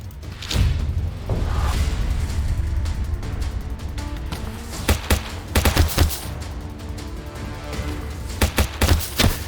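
Rapid bursts of gunfire in the game Shardpunk Verminfall, loud sharp shots in clusters with thumps and whooshes over a steady game backdrop.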